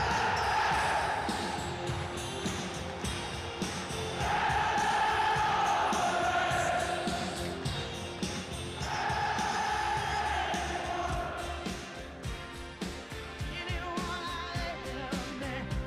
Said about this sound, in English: let's give the crowd the proper time to sing the song